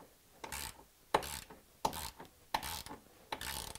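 A ratchet wrench removing a 13mm bolt near the sun visor of a Jeep JK, five quick bursts of close clicking ratchet strokes in a steady rhythm.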